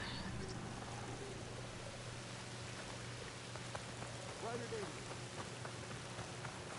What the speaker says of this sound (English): Rain once again.